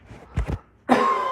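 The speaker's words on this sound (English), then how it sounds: "I had to cough real quick" A single quick cough from a man recorded close up, two short bursts early on, followed by a sustained noisy sound with a steady tone that may be something else entirely.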